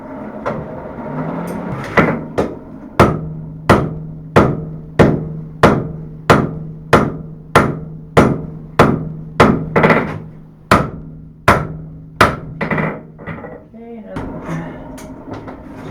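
Hammer blows forging a steel knife preform ring out loud and close, about sixteen sharp strikes at a steady, even rhythm, each with a bright metallic ring and quick decay, and no talking between them.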